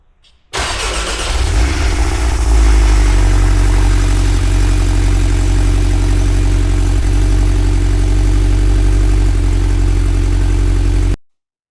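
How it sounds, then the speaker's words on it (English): A car engine with an aftermarket Circuit Werks cat-back exhaust cold starts, cranks and catches, then settles into a loud, deep, rumbling idle that holds steady until it cuts off abruptly. "So I will fire this up and we'll hear a cold start."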